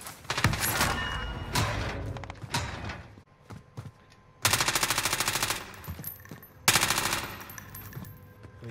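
Automatic weapon fire in Call of Duty Warzone, played on Rebirth Island: loud, close bursts of rapid shots come in several separate volleys with short quiet gaps between them, alone with no talk over them.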